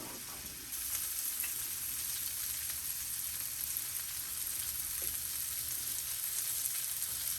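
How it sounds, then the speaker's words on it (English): Peppers and onions frying in a pan, a constant close sizzle that holds steady throughout, with faint crackles and no voices. "always keep an eye on your peppers and onions. Make sure that they're not cooking too fast"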